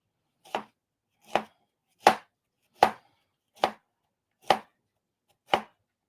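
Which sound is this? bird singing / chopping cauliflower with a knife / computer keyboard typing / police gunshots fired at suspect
chopping cauliflower with a knife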